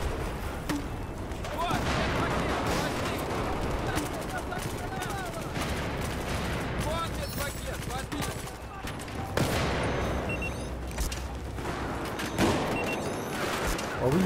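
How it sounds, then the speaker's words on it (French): Fragmentation grenade exploding in a shooting video game, heard as sharp broadband blasts amid dense, continuous automatic gunfire and battle noise, with voices in the game mix. "Oh oui, ma grenade fragmentation, c'est magnifique."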